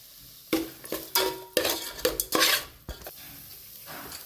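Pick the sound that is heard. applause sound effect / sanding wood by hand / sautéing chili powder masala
sautéing chili powder masala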